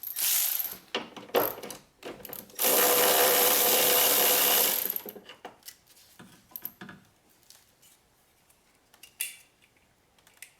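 A bolt is worked loose from the horn mount on a Mercedes/Dodge Sprinter van, with close ratcheting clicks in short bursts and then a steady run of a few seconds before scattered metallic taps fade out.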